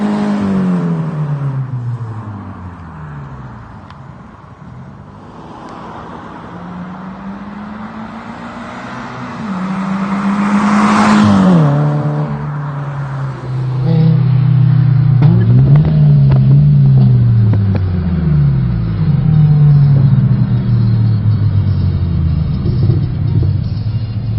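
A Subaru-style flat engine in a Scion FR-S with a Greddy catback exhaust revs through gears, rising and falling in pitch with a deep rumble, heard from inside the moving car.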